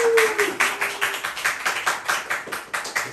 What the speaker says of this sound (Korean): 박수 격려